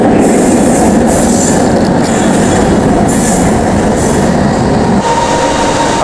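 An MRT train in Kuala Lumpur rumbles past close by, loud and continuous, with wheels grinding and squealing on the rails throughout.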